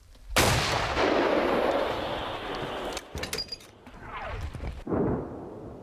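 A single powerful artillery blast cracks out and rolls into a long echoing rumble, followed by metallic clatter and scattered knocks.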